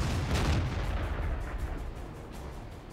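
Artillery fire in the World of Tanks video game sounds as a dense, continuous rumble of distant booms that fades slightly over a few seconds, with no voices.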